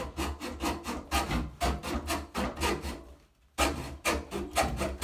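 Pipe for a sink P-trap is cut with a saw in rhythmic back-and-forth rasping strokes, close and fairly quiet, with a brief pause before the sawing picks up again.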